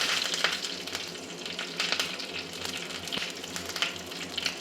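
Cumin, mustard seeds and curry leaves hitting hot oil for rasam, with red chillies and asafoetida, a steady close crackling sizzle with scattered sharp pops and spatters throughout.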